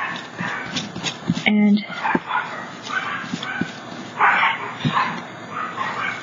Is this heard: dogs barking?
yes